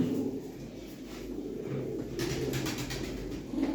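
Pigeons in a loft coo in soft, low, repeated calls that sit faintly over a quiet background with a few light rustles.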